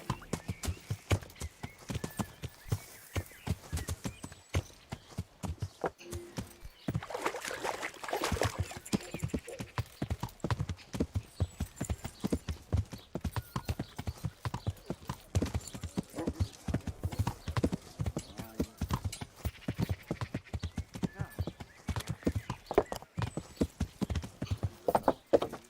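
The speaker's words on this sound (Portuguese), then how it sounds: "Já que na água o cavalo não anda, né?" Horse hooves clip-clop in a steady, continuous rhythm through the video game Kingdom Come: Deliverance as the horse crosses a small bridge, fairly close and without talk.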